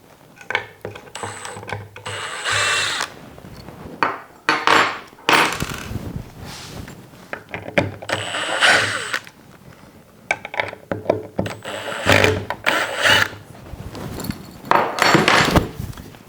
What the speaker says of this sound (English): taking my drill with a P2 Phillips, I'm going to take out both screws.